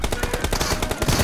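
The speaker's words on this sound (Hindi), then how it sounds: "ऐसे लगते भाई गोलियां।" Rapid automatic gunfire from a multiplayer shooter video game's 1v1 team deathmatch, a dense burst of close, loud shots firing in quick succession for the whole moment.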